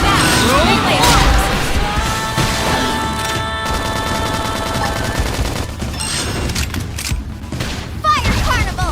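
Clashing melee combat in the video game Xenoblade Chronicles X, with dense hits, crashes and blasts layered over tonal effects and voices calling out during battle.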